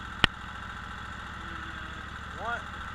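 A riding lawn mower engine idles nearby in a steady, even putter, with a brief sharp click near the start and a faint whistling squeak toward the end.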